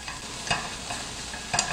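Sliced beef stir-fried over low heat in a pan for japchae, with a soft steady sizzle and two distinct scraping stirs of the utensil, close and moderately quiet, no talking.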